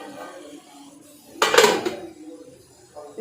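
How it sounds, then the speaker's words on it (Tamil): A lid settles onto a cooking pot with a single clattering metallic clink lasting about half a second, fairly close, between stretches of soft background noise. "அதில் மூடி வைப்போம்."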